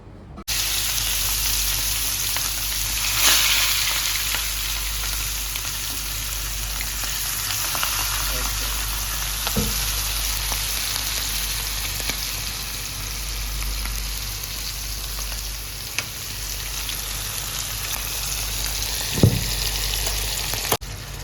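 Seer fish (vanjiram) fries in a pan with a continuous, even sizzle that holds throughout, with a few faint taps and pops.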